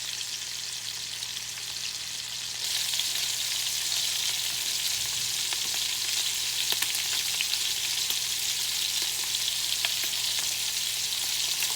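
Pork chops fry in a pan with a steady, dense sizzle that grows louder after a couple of seconds and holds evenly, with faint crackles and no talking.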